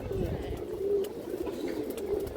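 A pair of old-breed Sabji pigeons coo softly and repeatedly at close range, low rolling calls against a light background hiss.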